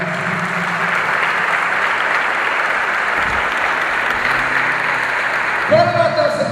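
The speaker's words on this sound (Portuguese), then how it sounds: "Aplaude Jesus." A church congregation applauds steadily for several seconds, with voices mixed in and a louder burst of clapping near the end.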